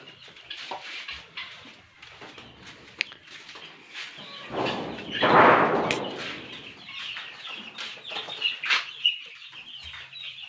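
A silkie chick peeps in short high chirps while being caught by hand for vaccination on a poultry farm, with rustling and handling noise and one louder flurry near the middle, close to the listener.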